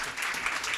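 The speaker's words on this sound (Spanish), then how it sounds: "yo quiero pedir un fuerte aplauso para Antoni" Brief, fairly soft applause from an audience at a tarot congress in Barcelona greeting a speaker, a smooth wash of many hands clapping with no distinct individual claps.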